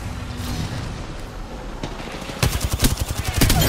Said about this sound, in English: Throwing a nade on right side.